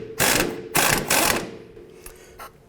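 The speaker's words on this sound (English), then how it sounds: "Using a 21mm socket on the nut side and a 17mm wrench on the other," A socket ratchet clicks in three loud, quick bursts while loosening a control arm bolt on a 2002-07 Jeep Liberty, followed by two fainter clicks as the turning slows.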